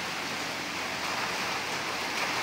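Steady rain pours outside during repair work on a Daikin air conditioner's outdoor unit, a dense, even hiss of falling water holding constant throughout with no other sounds standing out.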